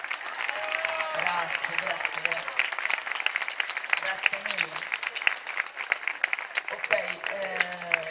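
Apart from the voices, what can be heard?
audience applause for a singer bowing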